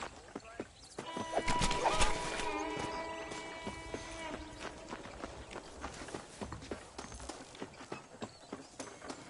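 Horse hooves clip-clop in the Red Dead Redemption video game, beginning with a neigh or whinny layered under a swell of music, then settling into a steady walking rhythm of sharp hoof strikes, with speech in places.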